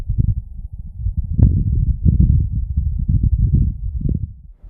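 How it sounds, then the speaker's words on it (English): Wind on the surface of Mars, captured by a rover's microphone: a low, muffled rumble that swells and gusts unevenly, steady and dull throughout with no voices. "This is the sound of wind on Mars."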